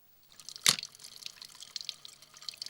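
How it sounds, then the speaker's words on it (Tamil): Water poured onto a plant while watering it, opening with one sharp splash followed by light dripping and trickling, close and fairly quiet. "செடிக்கு தண்ணி ஊற்றிண்டு"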